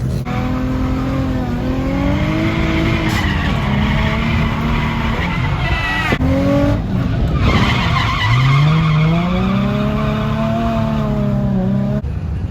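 A drift car loops through laps on cheap, worn front tires, its engine revving in rising and falling sweeps while loud, continuous tire squeal and skidding run under the whole stretch, up close with no talk.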